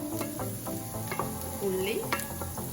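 Dried chillies and fennel seeds sizzle in a pan with softened onions, steady frying crackle with a spoon stirring and scraping close by.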